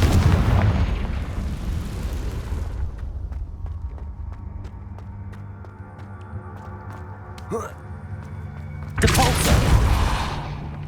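Confringo spell explosions in the Hogwarts Legacy video game land in two loud bursts, one at the start and one near the end, with quieter game ambience and faint tones between them.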